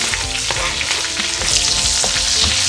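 Garlic sautéing in a hot pan for chicken pastel, a loud steady sizzle and crackle of frying oil with light stirring scrapes.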